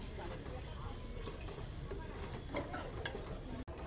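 Spices being stirred into an egg curry masala in a pan, village cooking style, with a soft steady sizzle and faint scraping strokes throughout, ending in a brief dropout.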